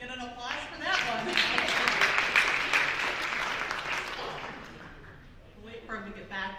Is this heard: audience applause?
yes